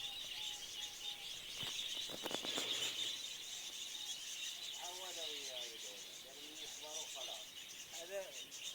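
Lovebird chicks and adult birds chirp in a cage, with a steady high bird chatter throughout and short bursts of brighter tweets, while someone talks nearby.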